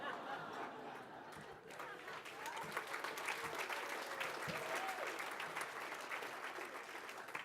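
Audience applause at a distinguished service award ceremony, a steady, dense wash of clapping from a sizable crowd that holds level throughout, with faint chatter mixed in.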